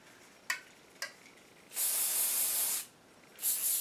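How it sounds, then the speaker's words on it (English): Aerosol hairspray being sprayed onto styled hair: two short sharp clicks, then a loud sustained hiss of about a second, a pause, and a second hissing burst starting, all close and with no talking. "so I'm going to go ahead and hairspray."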